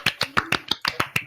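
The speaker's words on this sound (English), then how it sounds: "Love clap." Quick rhythmic clapping, about eight sharp claps in just over a second, close and crisp with no talking.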